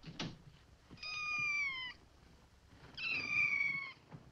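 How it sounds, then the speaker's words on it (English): A cat meows twice, each a drawn-out, clear call about a second long with a pause between, fairly close in an otherwise quiet indoor room with faint background noise. "Oh, a cat."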